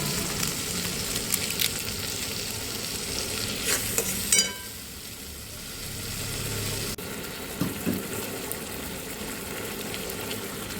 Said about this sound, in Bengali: মশলাটা যতক্ষণ তেল না ছাড়বে ততক্ষণ ধরে কষবো